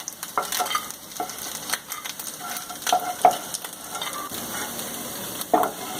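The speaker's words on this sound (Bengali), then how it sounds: "মাছগুলো একটু নেড়ে ছেড়ে ভেজে নিতে হবে।" Small mourola fish fry in hot oil while being stirred, giving a light crackling sizzle broken by scattered clicks and scrapes of the spatula, fairly close and steady.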